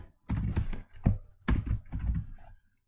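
Bursts of typing on a computer keyboard while entering LED control code: several quick clattering runs of keystrokes close by, separated by short pauses, ending in silence.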